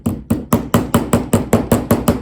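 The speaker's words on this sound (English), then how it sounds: "And a little hammer. Just gonna hammer it in place." A small hammer tapping a metal tool to set a fastener into a junk journal, about eleven sharp, evenly spaced strikes, close and loud with no talking.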